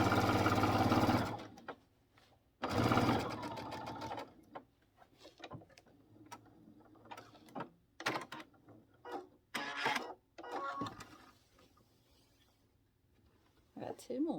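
A sewing machine stitches small seams on an egg-gathering apron's pockets, with two strong whirring bursts followed by quieter intermittent clicks and handling noises, a voice talking in between.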